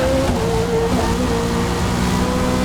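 Race car engine from Forza Motorsport at Sebring, a steady loud drone with tonal engine harmonics running continuously throughout, no voices over it.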